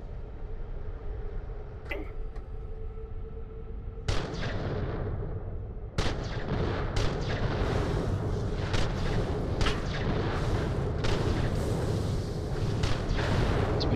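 Enemies shooting in the Borderlands The Pre-Sequel video game: a few isolated gunshots at first, then a dense, sustained barrage of loud cracks and booming blasts, close and continuous to the end.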